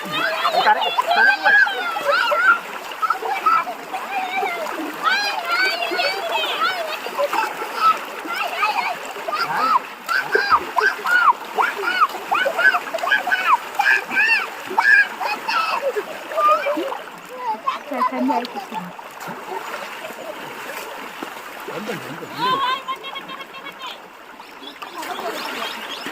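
Children splash and play in river water during a bath, with continuous splashing and flowing water throughout and several kids' voices and adult speech over it.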